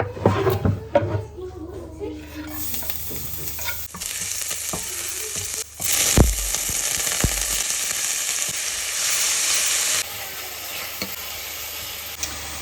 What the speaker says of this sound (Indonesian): Sekarang kita tumis bawang putih